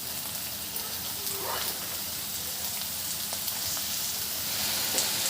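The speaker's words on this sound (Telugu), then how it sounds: "బీరకాయ ముక్కలను యాడ్ చేసుకున్న తర్వాత మూత పెట్టకుండా ఫ్రై చేసుకోవాలండి" Ridge gourd pieces and raw onions fry in an open pan without a lid, giving a dense, even crackling sizzle like light rain that holds steady throughout, close and with no talk.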